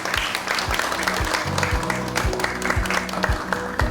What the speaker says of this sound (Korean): 역시 뜨거운 박수로 환영해 주시기를 부탁드립니다.